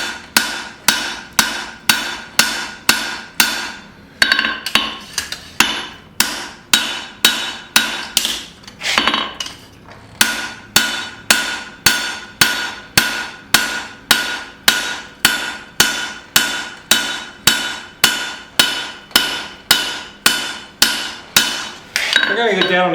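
Steady blows of a hammer ring out on hot steel as a cleaver's taper is forged, dozens of sharp metallic strikes in an even rhythm with brief pauses, loud and close.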